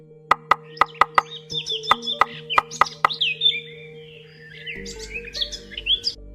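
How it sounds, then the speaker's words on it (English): Pileated woodpecker sequence: a run of sharp, evenly spaced knocks like drumming opens, then bright, rising whistled and chattering calls carry on. Later, loud and close, a lower rumble with more busy calls. "Peated woodpecker."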